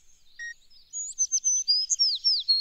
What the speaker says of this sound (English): I'm recording the chirping of birds.